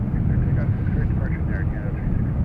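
Air Canada airliner taking off from Montréal-Trudeau airport, a steady broad jet roar heard from a distance, with speech over it.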